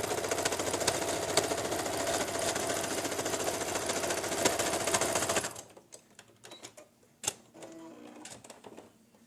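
Sewing machine running a steady, dense stitching buzz on a patchwork seam for about five seconds, then stopping abruptly, followed by quiet handling clicks and light rustling of fabric.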